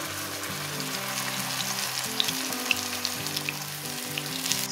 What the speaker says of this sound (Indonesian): Panaskan sedikit minyak goreng, masukkan bumbunya.